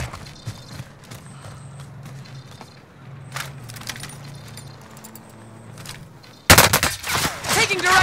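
Gunfire in Call of Duty: Warzone on Rebirth Island, a sudden loud close burst of rapid shots near the end after quieter game ambience with scattered clicks and metallic rattles.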